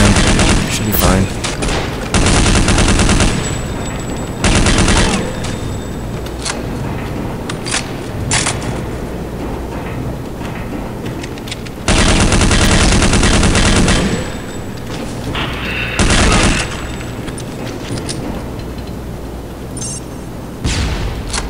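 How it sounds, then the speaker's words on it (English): Submachine gun fire in Counter-Strike Condition Zero Deleted Scenes, loud repeated bursts of rapid automatic shots separated by short pauses, with some longer sustained volleys, close and dominant. "Let me just use the submachine gun"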